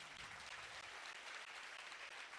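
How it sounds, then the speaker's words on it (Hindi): Thin, scattered applause from an audience, steady but light and subdued throughout, with no voices standing out. "कितनी कमजोर तालियां हैं आप लोग की।"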